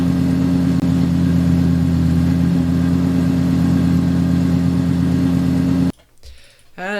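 A real Lexus LFA engine recording plays as a loop: a steady, loud, droning engine tone with a strong low hum that holds evenly for about six seconds, then cuts off abruptly.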